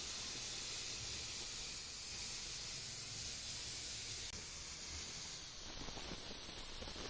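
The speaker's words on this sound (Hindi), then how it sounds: "प्रेशर कुकर में से हवा अच्छी तरह से निकल गई है" Steam hissing out of a pressure cooker used for cooking beef trotters, a steady broad hiss that continues without a break before easing near the end.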